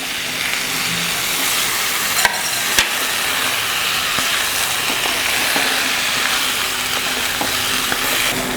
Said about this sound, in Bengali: এবার আমি ডালটাকে ঢেলে দিচ্ছি, ডালটা ভেজে নেব।